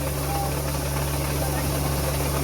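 Loud, steady mechanical drone of a rice harvesting and threshing machine engine with a low rumbling hum and constant rattling vibration, close by and unbroken, in a paddy field.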